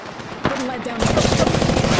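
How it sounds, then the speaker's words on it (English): Enemy gunfire in the Apex Legends battle royale, rapid automatic bursts rattling in quick succession and growing denser partway through, with game voices and effects underneath. "The enemies are shooting at me!"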